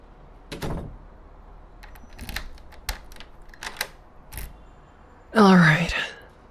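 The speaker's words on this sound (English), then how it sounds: "Let me just lock the door." A door being locked at home before heading out on a date, heard as a handful of scattered clicks and metallic taps followed by a louder, brief rattling clunk near the end, close and clear.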